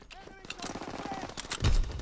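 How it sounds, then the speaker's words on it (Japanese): Gunfire in Call of Duty: WWII multiplayer on PS4 Pro, rapid automatic shots popping in a quick rhythm at moderate loudness, with someone talking over them. "なんかね、ちょっとおもちゃ感が増した銃声になっちゃった。"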